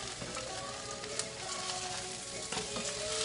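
An oyster omelette (hoi tod) frying in splattering oil, a steady dense sizzle with crackling pops from oil spattering, close and continuous.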